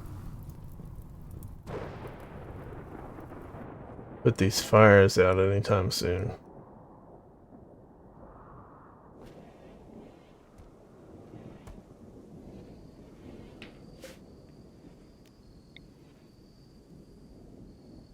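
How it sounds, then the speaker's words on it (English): A dry thunderstorm in the video game RimWorld, a loud thunder crash with a rumbling tail that fades into a low background rumble while someone talks over it. "There's a dry thunderstorm, so there ain't no rain to"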